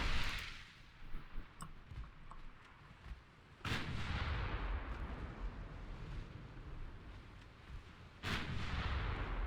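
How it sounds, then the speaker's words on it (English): Torpedo detonation in the naval battle game Ultimate Admiral Dreadnoughts, with loud booming blasts at the start and two more that break in sharply later, over a constant rumble of battle noise. "Torpedo detonation, that's always a good sign."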